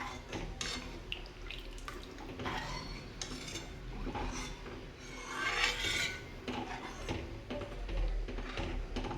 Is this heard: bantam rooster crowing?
no